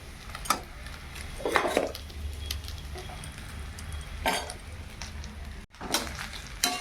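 Cooked rice being stirred with prawns in a pan: intermittent scraping and clinking of a utensil against the metal, close and moderately loud over a low kitchen background hum.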